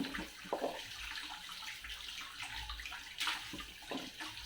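Harvested produce being washed by hand in water, with sloshing and splashing that swells and fades in short bursts over a steady background of running water, fairly close.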